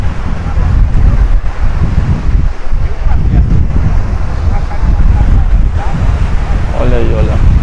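Wind gusts and surf at Praia Formosa beach in Cabedelo, with a steady, loud rush of blustery air over the microphone and breaking waves, and faint voices now and then.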